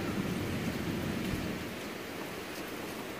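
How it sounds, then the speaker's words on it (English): Heavy rain lashes down in strong wind, a dense, loud, continuous roar of falling water and gusts close by, with no voices. "I'm getting hit in the face with rain."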